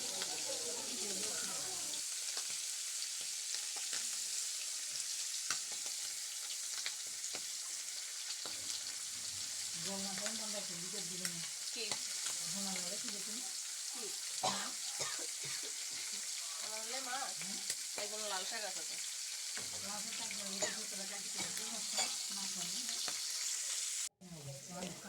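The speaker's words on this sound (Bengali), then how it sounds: "ইলিশ মাছগুলো ভেজে তুলে রাখবো" Hilsa fish frying in a home kitchen, a constant loud sizzle running throughout, with intermittent talking heard under it.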